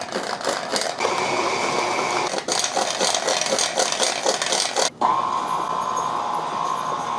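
An electric mixer whirs steadily while powdered sugar is gradually beaten into cake frosting, its close motor hum rattling in the bowl, briefly pausing near the end before starting again at a smoother pitch.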